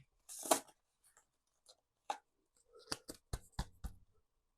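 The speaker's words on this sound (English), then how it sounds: "Let's get some shuffling going." Scattered papery snaps and taps, then a quick run of sharp card slaps close by as a tarot deck is cut and shuffled by hand.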